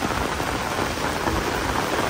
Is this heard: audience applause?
no